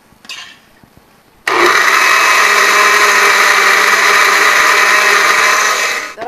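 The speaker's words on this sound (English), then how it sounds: "I'm adding the zucchini to the cashews in the blender." After a brief quiet rustle, a blender blending cashews and zucchini starts abruptly and runs at a loud, steady high-pitched whir, then winds down at the end.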